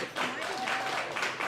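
Audience applause at a youth sports awards ceremony, a brief swell of many hands clapping, with a voice speaking over it.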